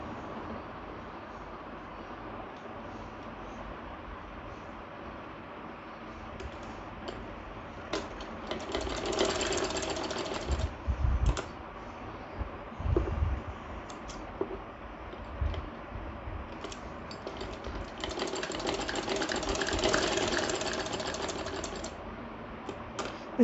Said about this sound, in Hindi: दोनों साइड में स्टिचिंग कीजिएगा।